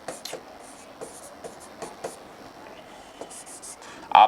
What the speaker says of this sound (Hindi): इसको ऐसे ही लिखेंगे